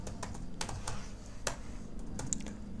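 Python code being typed on a computer keyboard, a steady run of light, near key clicks with a few sharper taps, no voice over it.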